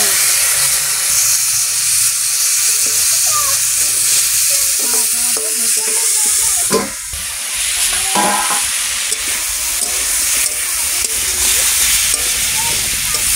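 Water poured into a hot frying pan during a Bengali fish curry with pumpkin, potato and greens stalks makes a loud, continuous sizzle and hiss, with a spoon stirring and scraping throughout.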